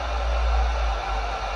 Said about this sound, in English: Plug a heat gun in here. We got on low right now.